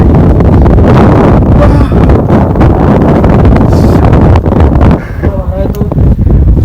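Loud, roaring wind buffets the microphone in heavy low rumbling gusts, easing slightly near the end, with indistinct voices partly buried underneath.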